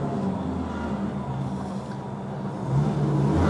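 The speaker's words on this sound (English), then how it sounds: "Crazy Corvette." A Chevrolet Corvette engine revs, a deep continuous rumble with low throbbing tones that swells louder near the end, blended with broadband road and street noise.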